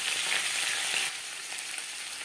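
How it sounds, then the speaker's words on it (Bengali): Radish pieces frying in oil over a medium gas flame for a lentil and radish dish, a loud close steady sizzle that drops to a softer hiss partway through, no speech. "চার 5 মিনিট মূলো ভেজে নেব।"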